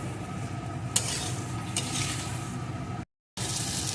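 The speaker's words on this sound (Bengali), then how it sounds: "কাঁকরোলটা এইভাবে নেড়ে নেড়ে ভালো করে ভেজে নেব" Spiny gourd pieces fry in oil with turmeric while being turned over and over, giving a steady close sizzle with soft scraping and a couple of sharper utensil knocks, briefly cutting out near the end.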